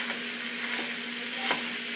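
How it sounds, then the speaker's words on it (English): Ground meat for pumpkin chili sizzles steadily in a hot pan with seasonings, a constant close frying hiss broken by a few soft scraping stirs, with no talking. "we're going to cook it until the meat is brown"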